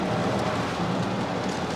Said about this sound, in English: It's a manageable amount of rain.